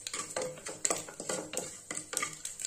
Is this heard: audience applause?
no